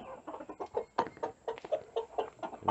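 Backyard laying hens, some of them molting, cluck softly in a steady, busy stream of short repeated calls close by, with no talking over them.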